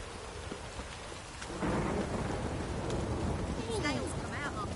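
Rain pours steadily in The Witcher 3, swelling louder partway through, with low rumbling thunder underneath; a few brief sounds and a voice sit faintly in the mix.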